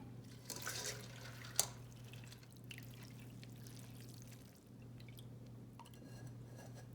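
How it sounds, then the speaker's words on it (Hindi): Water is drained off soaked moong dal: faint pouring and dripping sounds, with one brief louder splash near the start, over a steady low kitchen hum. "दाल में से वाटर निकाल लेते हैं।"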